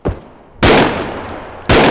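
Two or three sharp, loud gunshots in the video game BodyCam, each a close blast with a decaying tail, separated by about a second.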